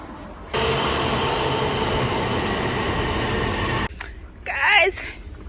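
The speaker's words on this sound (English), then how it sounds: "Oh, my train is coming." Train arriving at a station: a loud steady rumble and rolling wheel noise that cuts off abruptly, followed by quieter ambience and a brief voice.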